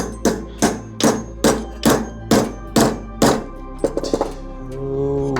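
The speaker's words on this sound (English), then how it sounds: "Let's try to hit it with a hammer." A hammer striking a wrench to knock a basket off a ski pole, seven steady metallic thunks at an even pace, then a few lighter quick taps.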